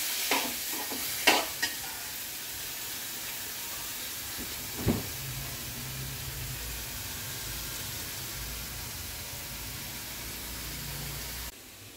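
Masala with coriander powder and garam masala sautéed in a pan for a kolumbi masala: a continuous soft sizzle and hiss, with a few clinks of a spoon early on, then steady frying until it cuts off.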